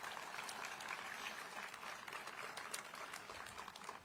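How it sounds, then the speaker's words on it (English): A crowd applauds Senator Kirsten Gillibrand at a federal funding event with Chuck Schumer, faint, steady clapping that holds evenly throughout. "Let's have a round of applause for her."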